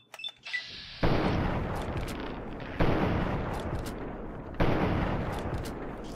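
Rifle fire in Fallout 3, three loud, heavy shots spaced a couple of seconds apart, each with a long, rumbling decay, following a short opening of faint clicks and small game sounds.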